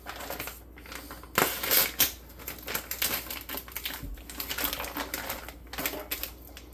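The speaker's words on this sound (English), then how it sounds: "we'll go ahead and start cutting up the meat and getting it ready to prep the stuff into the jars" Knife slicing and chopping venison deer meat on a board for canning, a series of irregular close crunchy cuts and taps with a few louder strikes.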